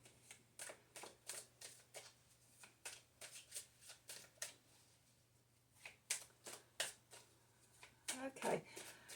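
Tarot cards being shuffled in quick, crisp bursts of riffling, repeated again and again close up, with brief pauses between shuffles.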